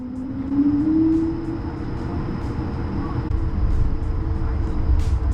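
A QantasLink Airbus A220 airliner taxis toward the runway on its inaugural international flight, its loud steady engine drone with a rising whine heard up close and continuous throughout.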